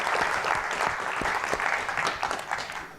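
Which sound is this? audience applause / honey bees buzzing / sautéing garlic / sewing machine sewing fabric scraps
audience applause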